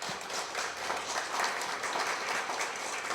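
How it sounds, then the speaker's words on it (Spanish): Soft, steady applause from a gathered audience at a special catechesis session, fairly faint and distant, continuing evenly throughout without speech. "Pues muchísimas gracias, les damos un aplauso."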